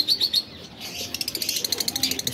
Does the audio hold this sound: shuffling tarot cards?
no